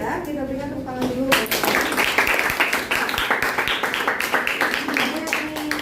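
Classroom applause from a group of students, a dense burst of hand clapping that starts abruptly after a short stretch of talk and continues steadily, loud and close, with voices mixed in.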